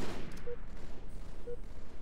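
Gunfire in a Halo: The Master Chief Collection multiplayer match, with sniper fire, comes as dense, rapid, overlapping bursts that keep on without a break, loud and close.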